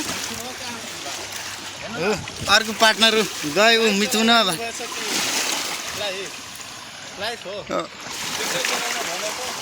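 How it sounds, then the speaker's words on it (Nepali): Sea water splashing and washing in a continuous broad rush, with someone talking loudly over it for much of the time. "समुद्र"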